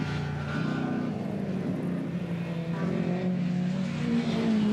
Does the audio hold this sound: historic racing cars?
yes